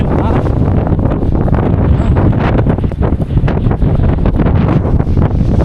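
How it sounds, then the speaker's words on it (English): Strong wind on Table Mountain in Cape Town buffets the microphone in a loud, constant roar with gusty fluctuations. "the winds are blowing too hard."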